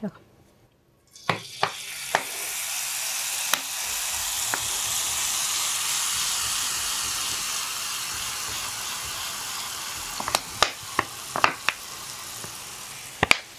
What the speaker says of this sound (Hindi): ऑयल हमारा गर्म हो चुका है अब हमने ये जो बोतल में बैटर डाला था हम इसको निकालेंगे पैन के अंदर